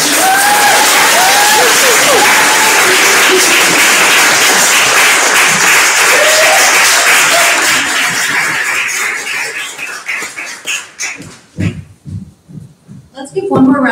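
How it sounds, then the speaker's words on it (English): Sustained audience applause at a poetry anthology launch event fills the room loudly, then thins out into scattered individual claps before a final burst. "Let's give one more round of applause for all the readers and all the writers in the anthology this year."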